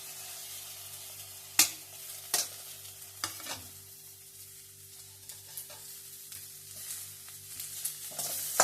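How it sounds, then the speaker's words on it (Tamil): Onion and tomato sautéing in a pan for drumstick soup, a steady soft sizzle broken by sharp spatula scrapes and clacks at irregular intervals, close and clear with no talking. "வெங்காயம் தக்காளி நல்லா வதக்கிடணும்."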